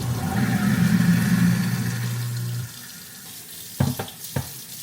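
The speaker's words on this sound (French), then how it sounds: "tu balances la nourriture dans l'évier et après tu broies tout" A kitchen sink garbage disposal grinds food waste under running water, giving a steady motor hum and rush for about two and a half seconds. It then shuts off, followed by a few sharp clunks in the quiet.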